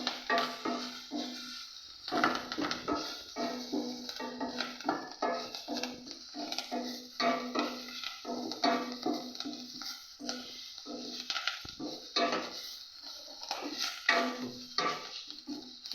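Black pepper, sesame seeds and cumin dry roasting in a pan, heard as quiet, rapid scraping and rattling from stirring the seeds against the metal, close and continuous.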